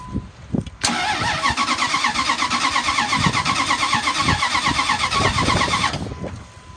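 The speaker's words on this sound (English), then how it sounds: "It turns over, I'll show you, but no start." A 2002 Dodge Ram 3500 utility truck cranks without firing: a steady, rhythmic starter churn runs for about five seconds after a short lead-in, then stops, heard up close with no speech.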